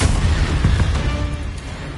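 Fiery Confringo spell blast in Hogwarts Legacy, a loud booming burst with rumbling low-end crackle that stays dense and heavy for the whole moment.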